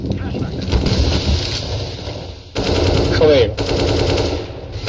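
Loud gunfire bursts in Counter-Strike: Global Offensive come in two volleys separated by a brief pause, with a player talking over the game sounds.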